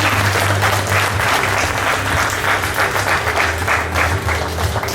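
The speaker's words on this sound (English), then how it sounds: "Come on, one more round of applause for Mastan." A crowd at a school parent orientation applauds steadily and loudly, dense clapping filling the whole stretch without pause.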